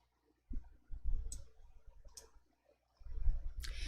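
A computer mouse clicks a few times in a quiet room, sparse soft taps with low thuds and short pauses between them.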